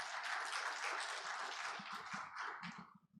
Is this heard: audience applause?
yes